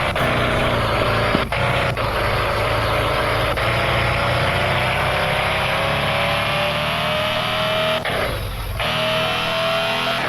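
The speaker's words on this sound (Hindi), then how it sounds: "फिर गाड़ी को भगाते हुए मैं लेके जा रहा था ऑफिस" A car engine in a driving video game holds a loud, continuous drone with a slowly rising pitch as the car speeds along. A few brief shifts and dips break the sound near the start and later on.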